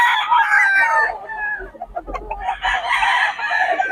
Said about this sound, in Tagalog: Maraming manok to si boss.